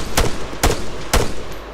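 In the ArmA 3 video game, three loud, close gunshots fire at roughly half-second intervals, each a sharp crack with a short tail over a constant background hum.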